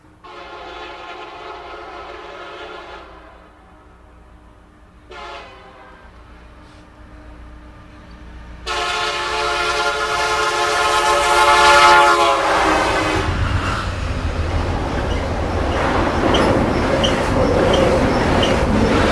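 A Santa Fe freight train passes east of town, its horn sounding in long steady blasts that grow louder as it nears, then a broad roar of rolling cars and rumbling wheels taking over close by.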